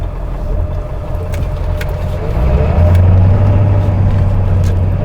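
Road traffic in a jam, a steady low rumble of idling and slowly moving vehicle engines from inside a vehicle, swelling louder midway into a deeper sustained drone, with no speech.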